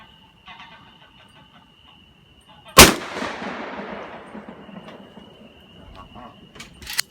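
A single sharp, loud report from a new Ruger AR-15 rifle cracks at close range outdoors and trails off into a long echoing decay, with quiet voices murmuring before and after.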